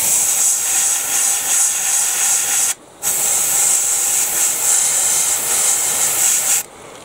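An airbrush sprays paint onto a 1/72 scale Airfix B-17G model aircraft, giving a steady close hiss that cuts off briefly twice, once near the middle and again near the end.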